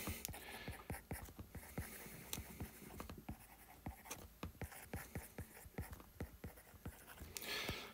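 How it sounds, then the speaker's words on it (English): Stylus writing a sentence on an iPad screen in Goodnotes, a quick run of close, quiet tapping strokes in an irregular rhythm with no voices. "So let's just write out a sentence."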